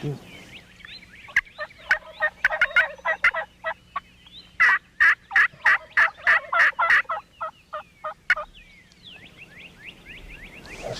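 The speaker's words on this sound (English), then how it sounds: "That's the first turkey gobbled in a while." Wild turkeys gobble during spring turkey season in the woods, with repeated bursts of rapid rattling gobbles from more than one bird, coming in clusters at moderate distance over a quiet background.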